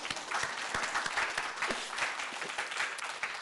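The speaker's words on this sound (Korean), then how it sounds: "박수 한번" A church congregation gives a round of applause during a Korean sermon, a dense, even patter of many hands clapping continuously at moderate distance, with no voices on top.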